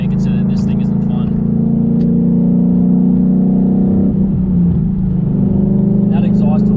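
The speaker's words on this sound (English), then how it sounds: "That exhaust lead sounds really good." A manual-transmission car drives with a loud, droning engine and exhaust note that holds steady and shifts pitch partway through, close up throughout.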